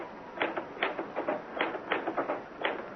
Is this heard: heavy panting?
no